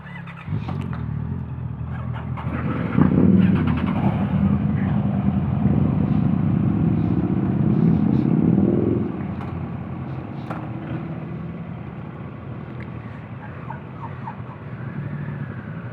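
Ducati Multistrada and BMW GS motorcycles ride in a group, their engines rumbling steadily nearby with a rising throttle swell in the middle before settling into a lower, even drone.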